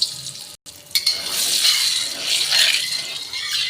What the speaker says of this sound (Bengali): এবার উচ্ছে আলু ভাজাটা চাপিয়ে দেবো তেল গরম হয়ে গেছে